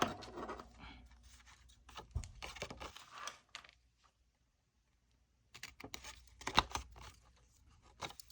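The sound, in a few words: scissors cutting out a paper corner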